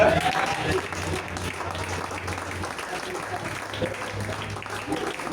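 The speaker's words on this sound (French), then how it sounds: "voici comment tu vas taper les mains" Hands clapping in church, with steady applause-like clapping under a low droning hum, and a voice speaking faintly over the start.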